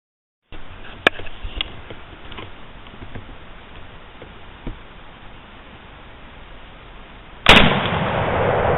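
A single sharp rifle report from a Browning BAR in .308 cracks early during a wild boar hunt in East Tennessee, followed by a few quieter knocks and rustles, then a loud burst of noise near the end.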